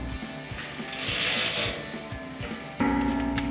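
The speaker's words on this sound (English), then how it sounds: "now take an 18mm socket through this access hole and tighten down that nut" An 18mm socket wrench tightens a nut through an access hole on a Barricade Cat Guard skid plate of a 2019-2025 RAM 1500, giving close, steady ratcheting and metallic clicking with a sharper burst near the end.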